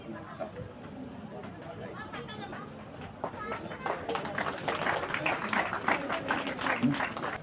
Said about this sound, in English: Let us welcome Anurag sir with big round of applause from Career Point Kota.